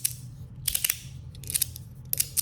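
A clicky 3D-printed three-stack slider is snapped back and forth by hand, giving sharp plastic clicks in quick clusters against a faint background hum.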